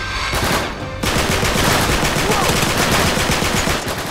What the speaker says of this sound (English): you'll hold R1, and that's gonna let you blind fire